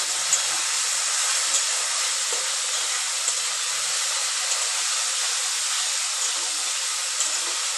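Spice paste and fried potatoes sizzle in hot oil for a Bengali fish curry, a steady close hiss that runs evenly throughout with faint crackles and no talking.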